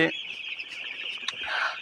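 Seven-day-old chicks cluck and cheep in a short burst, a steady high chirping with a few sharper calls, close by.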